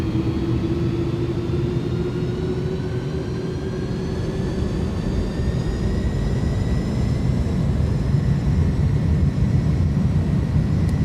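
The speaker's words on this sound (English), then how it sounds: "Takeoff power is set." Airbus A310 jet engines at takeoff power on a Dubai-bound departure from Kuwait, a steady loud rumbling roar with a rising whine building over several seconds, no voices.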